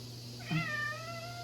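An indoor cat gives a single drawn-out meow close by, rising and then falling, over a steady background hum.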